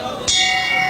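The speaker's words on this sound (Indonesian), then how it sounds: "Bel sudah dibunyikan pemirsa." A boxing ring bell strikes once at a professional bout, a bright metallic clang that rings on with a sustained tone over crowd and arena noise.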